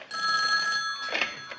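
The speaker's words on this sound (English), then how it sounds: "That's my phone." A telephone rings indoors with a single sustained electronic trill of bright, steady tones lasting about a second and a half, moderately faint and without talk.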